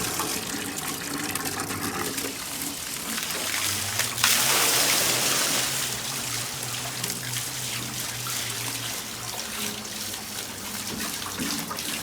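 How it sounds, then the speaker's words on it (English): Water pours into the pockets of a restored water wheel as it starts turning, a loud steady rushing and splashing that swells suddenly and then continues under a low mechanical hum. "Now it's filling up the pocket."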